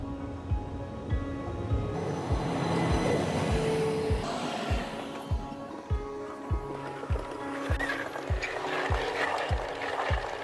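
A train at a railway station rolls by with regular rhythmic clacks of wheels over rail joints, a low rumble underneath, moderately close and steady.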